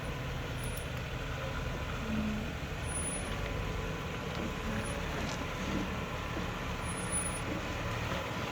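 A Jeep drives along the Cattail Cove off-road trail, its steady engine and rolling noise droning continuously at a moderate distance, with a few faint high chirps over it.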